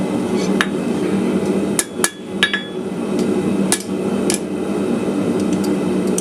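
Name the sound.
hammer planishing cold metal icicle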